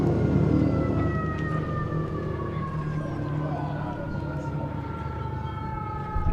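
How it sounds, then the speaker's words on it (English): Several emergency vehicle sirens wail steadily as they pass at a distance from a high school baseball game, their rising and falling tones carrying over a dense, continuous background rumble. "There's quite a few sirens going past us right now."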